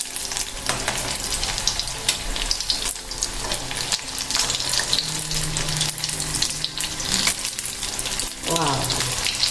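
Paneer pakoras fry in hot oil with a dense, continuous crackling sizzle that stays loud throughout, broken by occasional stirring scrapes.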